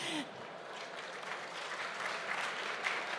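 An audience applauds after a presentation on environmental strategy for mountain destinations, a steady, moderately faint patter of clapping lasting a few seconds.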